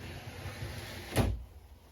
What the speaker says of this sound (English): You've got the slow close shower door.